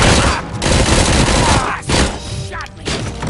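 Gunfire in RoboCop Rogue City on PS5 comes as loud, rapid volleys of shots and booms across the whole span, with a brief lull before a final burst, and a voice shouts over them.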